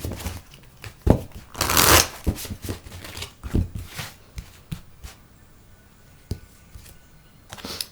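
Indigo Angel Oracle cards being shuffled by hand, with a run of papery riffles and slaps, one louder flurry early on, then softer intermittent taps and shuffles fading toward the end, with no talking.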